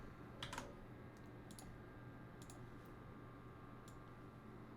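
Code typed on a computer keyboard: a few quick key clicks in short bursts over a steady low hum, close but quiet, with no speech.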